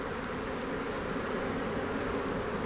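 Agitated honey bees swarm and buzz loudly at an opened beehive during a hive inspection, a dense, steady drone filling the whole stretch with no voices.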